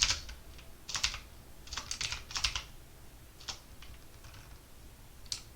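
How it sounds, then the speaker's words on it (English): Quick bursts of keyboard typing in uneven clusters, close by, with short pauses between runs of keystrokes and no talking. "I'm typing something wrong."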